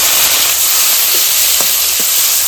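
Chopped tomato hitting hot oil in a pan, a loud, steady sizzling hiss that fills the whole stretch, with a few faint clinks underneath.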